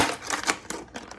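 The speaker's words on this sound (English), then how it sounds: "it's really thin water bottle, so I was able to cut through it with my scissors" Scissors snip through a thin plastic water bottle in a quick run of crisp, crackly cuts, close and alone.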